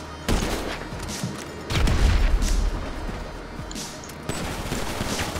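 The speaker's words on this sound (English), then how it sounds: "I've been throwing a grenade." Gunfire and booming grenade blasts in the GTA Online video game come in close, loud bursts, with a heavy explosion in the middle and more shots rattling around it.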